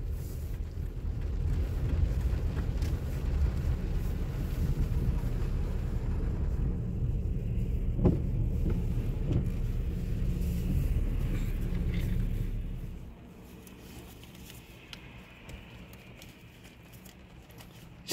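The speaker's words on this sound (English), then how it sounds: "Gas the car." A car drives through a Connecticut winter storm on a snowy road, its engine and tyres giving a steady loud rumble for most of the time before it drops suddenly to a quieter idle-like hum.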